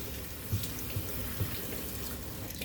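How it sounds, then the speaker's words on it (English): A kitchen tap runs steadily as celery is rinsed under it, giving a continuous hiss of splashing water with a few soft thumps of the stalks being handled. "So I just run it up under the water."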